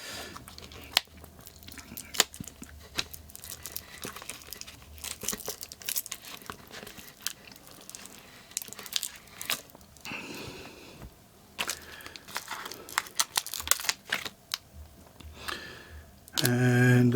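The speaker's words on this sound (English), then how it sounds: "I'm going to open my first pack of Slater's wheels. This is a scalpel to cut the plastic." A scalpel cutting open the plastic packaging of a pack of Slater's model wheels: scattered close crinkles, ticks and tearing scratches in irregular bursts, fairly quiet, ending with a louder rustle.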